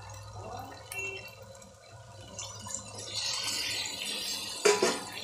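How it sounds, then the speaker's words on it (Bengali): Warm water is poured into a cooking pot, a soft splashing trickle that builds toward the end with a brief clatter near the close, fairly quiet with no voices. "কিছুটা উষ্ণ গরম জল করে রেখেছিলাম, এটা একদম এর মধ্যে দিয়ে দিলাম"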